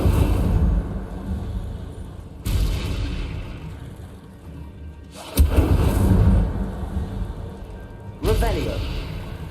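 Incendio fire spells cast in Hogwarts Legacy, heard as three loud whooshing, booming bursts spaced a few seconds apart over a steady game rumble, with a voice present.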